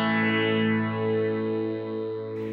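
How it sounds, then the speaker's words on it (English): Electric guitar chord on the neck pickup, run through a Phase 90-style phaser set to a slow rate, sustained and ringing with a gentle sweeping swirl, moderately quiet and alone. "I've gone with a Phase 90, and the only real significant thing is I have the rate backed off"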